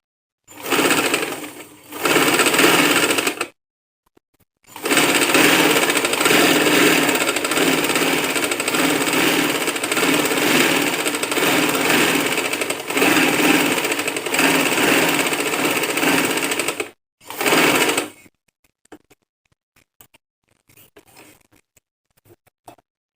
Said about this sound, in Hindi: ये बखिया हम बड़ा करके फुल बखिया कर देंगे और एक पैर की सिलाई लगाएंगे